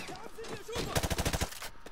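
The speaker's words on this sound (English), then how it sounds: "what are you doing shooting at my buddies?" A rapid burst of automatic gunfire in Call of Duty: Modern Warfare 2, about a dozen sharp shots in quick rhythm, following a moment of voice and game noise.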